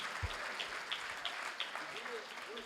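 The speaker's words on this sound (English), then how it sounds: "Please give her a round of applause" An awards ceremony audience claps in a steady wash of applause at moderate distance, with a few scattered voices and cheers mixed in.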